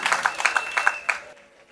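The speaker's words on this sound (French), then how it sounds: "Acclamation à Jésus." Church congregation clapping and cheering in praise of Jesus during a New Year service, a short burst of rapid claps with shouts that stops abruptly after about a second and fades into near silence.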